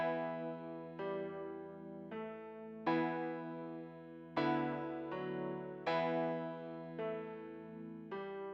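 Piano-preset chord loop with a melody layered on top, built in FL Studio for a hard trap beat; sustained chords change roughly every second and a half, bright and steady, with no voices.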